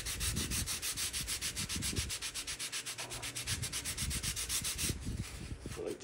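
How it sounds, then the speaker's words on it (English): Balsa wood being sanded by hand with fine 220-grit sandpaper, loud close rhythmic back-and-forth rasping strokes in a fast even pattern, with no voice over it. "So I'll switch to my finer sandpaper."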